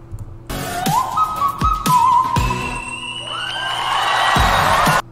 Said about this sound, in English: Whistle note. Whistle note alert, my dude.